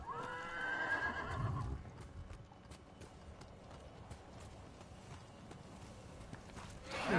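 In the video game Ghost of Tsushima, a horse whinnies briefly, then its hooves clip-clop steadily at a walking pace, faint and close, with a louder rustle at the end.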